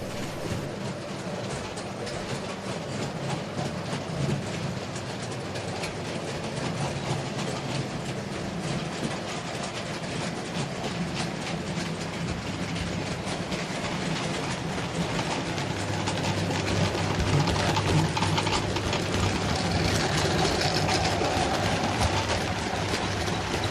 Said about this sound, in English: A goods train runs past the quarry and is watched by some PW men.